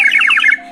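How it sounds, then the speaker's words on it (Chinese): A plastic water bird whistle toy filled with water gives a short warbling, trilling chirp like a small bird, bright and close, ending abruptly after under a second. "是小鸟的声音"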